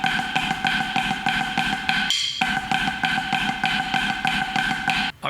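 Inverted flam taps drummed at a fast tempo, a dense, steady stream of crisp strokes with a brief gap near the middle, played loud and close with no talking.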